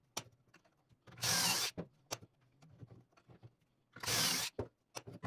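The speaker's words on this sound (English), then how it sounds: "I'm going to put 3 pocket holes in here" A drill bores pocket holes into a wooden board held in a pocket-hole jig, two loud, close bursts of about half a second each, separated by quieter clicks and handling of the wood.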